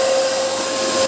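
A Samsung SC20M251AWB vacuum cleaner runs close by with a loud, steady whine and a strong tonal hum, undisturbed until a brief knock at the very end.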